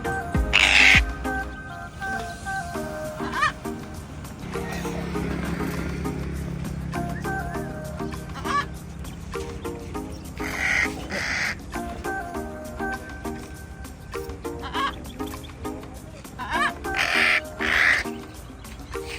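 A pet bird named Venti calls repeatedly in short harsh bursts, loud and close, over a steady low background hum, with no talking.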